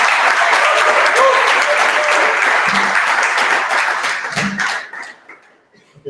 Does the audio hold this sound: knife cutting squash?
no